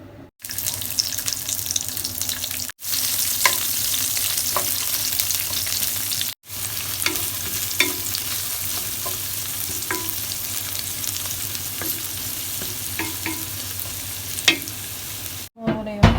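Fried rice with egg, ginger and garlic stir-fried in a pan: a steady frying hiss with scattered scraping clicks from stirring, broken by a few short pauses.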